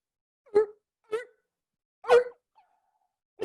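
Actors imitating Steller sea lions barking at each other onstage in a climate change theatre piece, four short, sharp barks spaced apart with silence between them.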